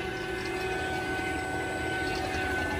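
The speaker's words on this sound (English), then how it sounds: "Now we're on the vacuumer." An HVAC vacuum pump runs steadily during a compressor replacement, a continuous mechanical drone with a fixed hum and rattling buzz, close and even throughout with no talk.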